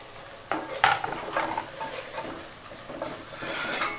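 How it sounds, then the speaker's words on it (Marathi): Chicken fries with black masala and turmeric in a clay pot, giving a soft, quiet sizzle broken by a few scraping stirs and clinks of a utensil against the pot. "तर आता आपण फ्राय करून घ्या मस्तपैकी"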